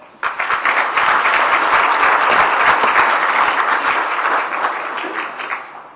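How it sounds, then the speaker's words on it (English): A large audience at a launch ceremony claps together in sustained, dense applause that starts abruptly and holds loud and steady for several seconds before tapering off. "may we have a big round of applause"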